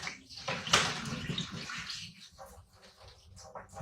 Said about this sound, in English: Mister, you want to rinse them off, girl.